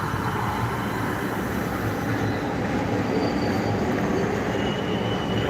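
An LA Metro train at Chinatown Station gives off a loud, unbroken rumble and rolling roar that holds steady for several seconds, close by and with no one speaking.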